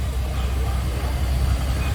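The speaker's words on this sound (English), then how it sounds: "A Burrell engine here" A Burrell steam road locomotive named Dorothy, heavily laden, approaches in a steam engine parade at the Welland Rally, giving a steady low rumbling chug that stays fairly even throughout, with no talk.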